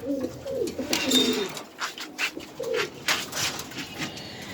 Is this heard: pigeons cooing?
yes